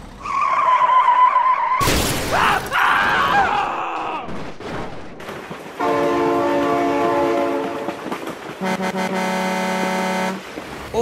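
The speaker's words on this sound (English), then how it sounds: "Oh my god, train!" A train in the driving game BeamNG Drive rumbles past with loud, close horn blasts: two long sustained blares, with crashing and skidding vehicle noise before them and no talking.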